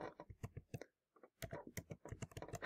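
A word being typed into a search bar on a computer keyboard, quick close keystroke clicks in two bursts with a brief pause between, fairly quiet.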